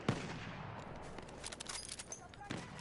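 Scattered gunfire and explosions from a Battlefield 5 firefight, with bursts and single cracks at mid distance under a voice talking throughout.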